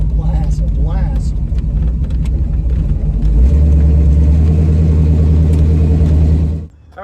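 1967 Pontiac Firebird 400 engine under throttle, a loud, close rumble that deepens and swells about halfway through before cutting off sharply near the end, with someone talking over it.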